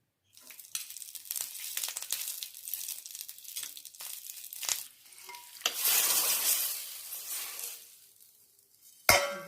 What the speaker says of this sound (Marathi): त्याला तडका करू। त्यासाठी मिरची घे, कढीपत्ता घे, थोडीशी राई, तेल